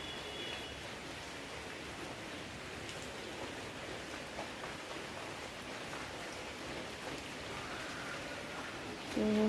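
Heavy rain falls outside in a steady, even hiss of drops, fairly faint and unbroken, with a small bump of other noise at the very end.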